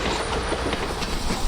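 Steam excursion train pulling Southern 3158 and Grand Trunk Western 899 passenger cars along the Beltline by Holtzclaw Avenue, a loud, steady rumble of rolling railcars up close with continuous wheel noise and no voices.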